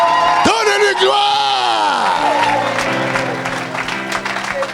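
A church congregation at a French-language worship service bursts into applause and loud whoops and shouts, one strong voice yelling over the crowd before the cheering settles into continued clapping.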